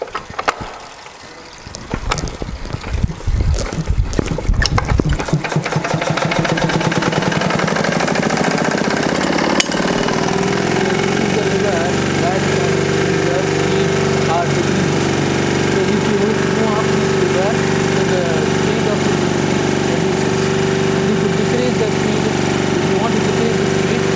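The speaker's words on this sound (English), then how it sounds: "So now you are going to start the engine." A CLM test engine cranks with rough irregular bursts, then catches and settles into a loud, steady mid-pitched running drone with a constant hum that holds to the end.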